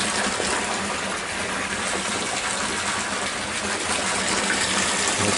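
Water from a drain pours steadily into a fish breeding tank with a constant broadband gushing rush, loud and close, unbroken for the whole stretch with no voices.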